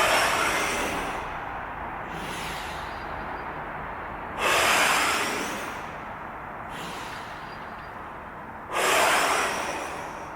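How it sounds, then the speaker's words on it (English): Forceful, exaggerated exhaled breaths during abdominal crunches in a gym, three long loud whooshing blows spaced several seconds apart, each trailing into quieter inhaling. "I want you to over-exaggerate your breathing"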